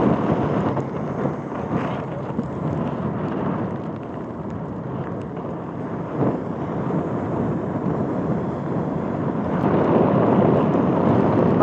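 Heavy wind buffets the microphone on a ship's bow in a steady low roar, with a broad hiss of rain and spray that swells louder near the end.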